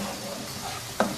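Finely chopped onions frying in a pan toward golden brown for a chicken masala, a steady close sizzle with a brief spatula clink near the end.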